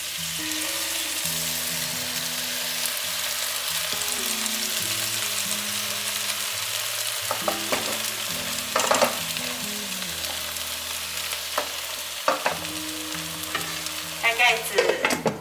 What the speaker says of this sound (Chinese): 煎饺放进去之后，把粉水放进来